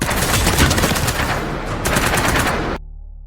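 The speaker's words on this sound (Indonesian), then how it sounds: "tembakan itu berasal dari Kiani." Film gunfire rattles in dense, loud automatic bursts at close range, briefly pausing and then resuming before cutting off abruptly into near silence, with no talk.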